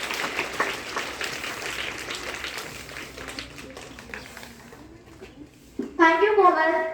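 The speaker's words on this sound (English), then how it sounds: "Please everyone give a big round of applause for them." Audience applause at a school morning assembly, a moderate wash of clapping with children's voices mixed in for about six seconds, then a voice rises above it as the clapping fades.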